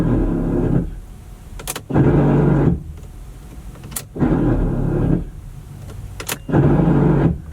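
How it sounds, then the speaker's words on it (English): Worn gears grinding in a pop-up headlight motor on a manual-transmission V8 sports car, heard from inside the cabin: four loud whirring bursts of about a second each, separated by quieter pauses and sharp clicks. "from the inside of the car, you can really hear the gears grinding"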